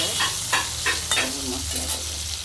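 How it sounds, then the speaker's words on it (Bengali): Cubed potatoes with cumin seeds sizzling in oil in a pan while a spatula scrapes and stirs them in several rhythmic strokes over a steady frying hiss. "আলুগুলো একটু ভাজা হলে তারপরে মশলাটা দিয়ে কষিয়ে নেব"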